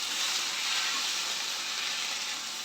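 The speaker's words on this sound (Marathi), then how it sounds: "आता आपण त्याच्यात टाकणार आहोत म्हणजे टोमॅटो घेतलेत आपण, ते छान परतून घ्यायचे आपण" Tomatoes sautéing in a pan for dum aloo gravy, a steady loud sizzle and hiss that stays even throughout with no voices.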